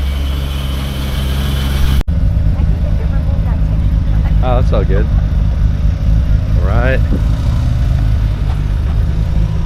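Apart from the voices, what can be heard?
JDM car engines starting up and idling while unloading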